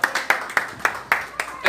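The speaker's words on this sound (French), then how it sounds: "Applaudissez s'il vous plaît" Wedding guests clap in a quick, regular rhythm, about six crisp claps in under two seconds, close and fairly loud, with a voice talking over them.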